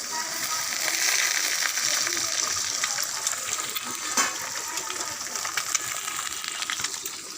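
Boiled eggs frying in hot oil, a continuous bright sizzle with bubbling crackle and occasional utensil clinks, loud and close.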